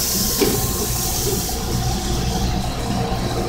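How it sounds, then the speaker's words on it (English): Butter sizzles in a frying pan with a loud, continuous hiss close by, steady throughout with no talking. "I'm going to start with some butter in the pan."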